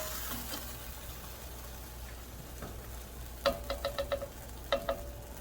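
A coriander mix sizzles as it hits molokhia, a soft frying hiss that builds into a quick run of sharp crackles and pops, fairly close and without talk.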